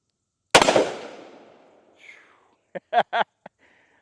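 A Smith and Wesson 640PC revolver fires a single loud, close .357 shot one-handed, with a sharp crack and a long fading tail, followed by a short exclamation and a few voiced bursts from the shooter.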